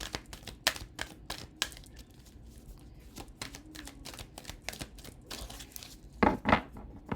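Irregular papery slaps and riffles of a deck of tarot cards being shuffled close by, with a couple of louder flurries near the end.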